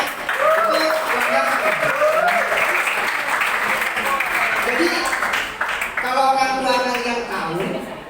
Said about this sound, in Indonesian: Ya kita tepuk tangan dulu.